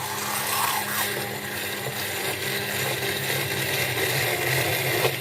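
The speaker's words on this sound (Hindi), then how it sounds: "हैंड मशीन से ग्राइंड कर लेते हैं।" Handheld electric mixer grinding banana, egg and sugar in a bowl for banana cake: a steady, moderate whirring hum with a gritty, rubbing texture, running continuously without pause.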